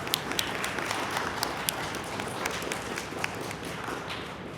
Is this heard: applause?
yes